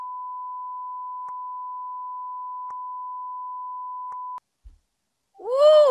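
A steady pure electronic tone holds for about four seconds, then cuts off into silence, followed by a faint thump and a brief rising whoosh.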